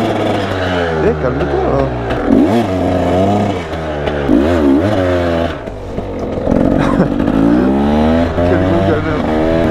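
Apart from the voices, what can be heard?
enduro motorcycle engine revving to warm up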